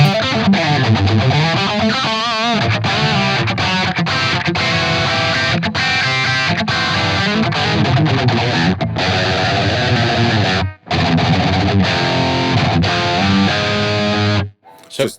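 A distorted electric guitar plays through a Blackstar St. James amp plugin, loud riffs and chords running continuously with two brief stops, no voices over it.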